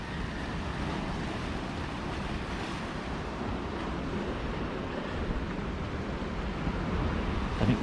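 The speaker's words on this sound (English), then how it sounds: "I can hear the water sort of gulping" Sea water surging and gulping in a cave below a cliff at Cape Cornwall, heard as a steady, dense wash of churning water and wind rumble, moderately loud and continuous with no speech.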